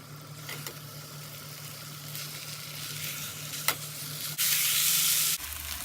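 Buffalo chicken wings fry over a high flame, a steady moderate sizzle with a low hum underneath, a brief sharp tap near the middle and a louder burst of hiss near the end.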